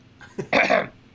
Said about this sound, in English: Do I just need to like cough?